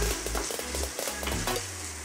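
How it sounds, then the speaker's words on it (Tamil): Sliced onion, green chilies and curry leaves sautéing in a pan, a close, loud sizzle broken by scraping stirs of a spoon, with no talking. "நல்லா வதக்கி விடுங்க."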